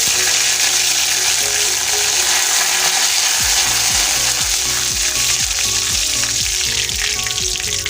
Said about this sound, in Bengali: এবার আমি নিম পাতাগুলোকে ভেজে নেব।